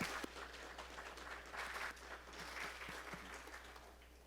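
A church congregation applauds continuously, a steady wash of clapping from many hands that holds throughout at an even level.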